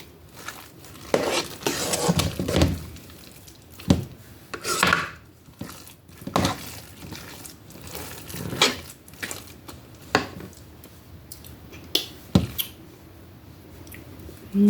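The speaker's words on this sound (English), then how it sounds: "let's give it another good stir" A spoon stirs through a bowl of Southern mashed potato salad, with irregular wet squishes and scrapes against the bowl in bursts, close and moderately loud, with no talking.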